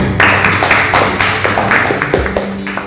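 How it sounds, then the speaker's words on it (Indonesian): Classmates in a classroom clap for a student after a presentation, a brief burst of close, uneven handclaps lasting a few seconds. "Tepuk tangan untuk temannya."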